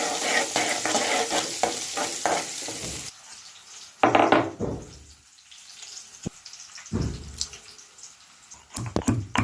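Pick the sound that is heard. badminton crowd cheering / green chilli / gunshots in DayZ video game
green chilli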